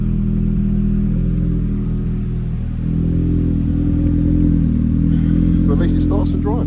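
A Ford Focus RS engine idles unevenly with a lumpy, throbbing low rumble, close and steady, while a voice talks briefly near the end.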